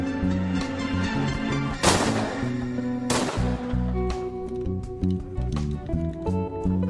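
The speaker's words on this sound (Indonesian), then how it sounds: "Ia lalu mengambil pistol milik rekan Wojiman dan tanpa basa-basi langsung menembak Junyeong palsu itu." Two sharp, loud pistol shots crack out about a second apart in a film scene, heard over a dense, continuous music score.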